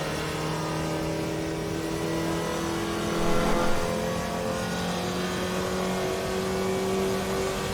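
Steady engine drone of a Mini Cooper B16 driven in the racing game Assetto Corsa EVO, holding a sustained tone with a brief swell midway, loud and alone without talk.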